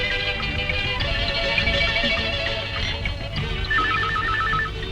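A telephone rings in a Bangladeshi drama film, with a warbling electronic ring that becomes clearest near the end over a musical score.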